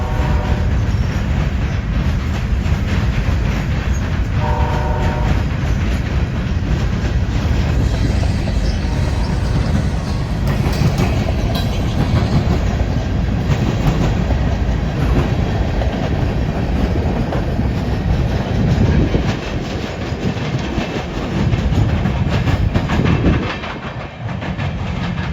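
Train rolling steadily through Ross siding in Cordele, Georgia, a loud continuous rumble of railcars with clickety-clack and faint wheel squeal that carries on throughout, easing slightly near the end.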